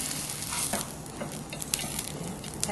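Salted cucumber stir-fries lightly in a little cooking oil, giving a soft, steady sizzle with faint scattered crackles and stirring ticks, fairly quiet and without voices.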